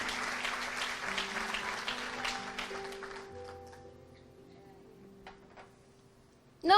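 Audience applause at a gospel worship gathering rises at first, then thins and fades away, leaving quiet sustained keyboard notes and a few scattered claps before a brief loud burst at the end.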